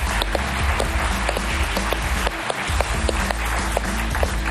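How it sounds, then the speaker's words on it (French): Audience applause fills an awards ceremony hall, a steady, dense wash of clapping that stays loud and continuous throughout, with no voices over it. "On l'applaudit."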